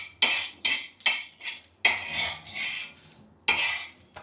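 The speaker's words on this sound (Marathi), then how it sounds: "तीळ जास्त वेळ नाही भाजायचं, कारण की तवा गरम असल्यामुळे ती लगेच भाजली जाते." Sesame seeds roasting on a hot tawa for methi masala, heard as a series of about seven sharp metal spatula scrapes and clinks in quick strokes, close and fairly quiet, with brief pauses between them.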